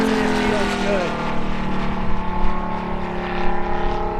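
The 180 engine of a large T-28 Trojan composite radio-controlled model airplane runs with a steady, buzzing drone at high power, loud and sustained with slight surges in level, while a voice talks over it.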